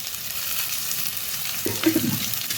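Chopped onion and garlic frying for schezwan fried rice, a steady close sizzle joined partway through by a brief clatter and scrape of stirring.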